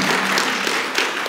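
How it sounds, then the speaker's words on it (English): A brief burst of audience applause for a puppet show, dense steady clapping heard near and alone for just over a second. "one last round of applause for our puppets."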